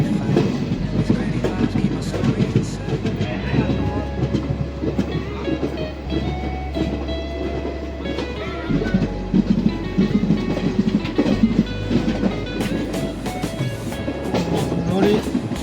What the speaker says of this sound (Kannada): ನಮ್ಮ ಗಾಡಿ ಪ್ಲಾಟ್ಫಾರ್ಮ್ ಹತ್ರ ಹೋಗುತ್ತಿದೆ.